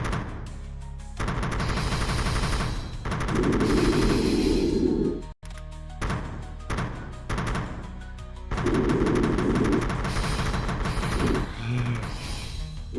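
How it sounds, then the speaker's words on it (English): Sustained automatic gunfire while shooting stationary bots in Resonite, loud bursts lasting a few seconds each, separated by short pauses and followed by scattered single shots. "Let's go find some stationary bots to shoot."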